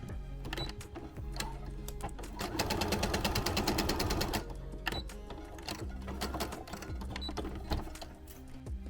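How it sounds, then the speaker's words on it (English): A sewing machine stitches plush fabric in rapid rhythmic runs, with a dense continuous burst in the middle and shorter clattering stretches before and after, close and clear with no talking. "This is the last part that we're going to machine sew"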